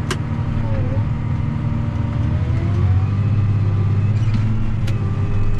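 A farm tractor engine idles in a steady low rumble while backing up out in the country, constant and close throughout with a few faint higher clicks.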